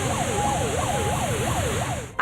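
A fire brigade vehicle's siren wails in a fast rising-and-falling pattern, several cycles over steady loud traffic and engine rumble, close by and without talk.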